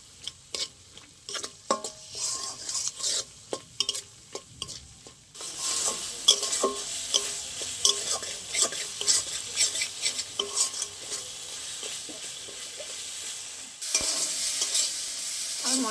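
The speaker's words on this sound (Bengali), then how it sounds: "পোস্তর কাঁচা গন্ধটা চলে যাওয়া পর্যন্ত একটু ভালো করে কষিয়ে নেব।" Spices and poppy seed paste with salt and Kashmiri chilli powder sautéing in a pan, heard as a quiet scrape and clack of a spatula stirring at first, then a soft continuous sizzle with repeated stirring taps.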